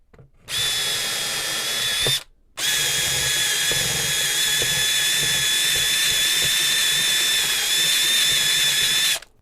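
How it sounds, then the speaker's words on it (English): Power drill spinning a 3/4 inch Forstner bit in reverse inside a glued chair-leg hole in wood, a loud, steady high whine that runs for about two seconds, stops briefly, then continues unbroken for about seven more. "I've got a 3/4 inch Forstner bit, and what I'm going to do is put it in the hole and run it backwards"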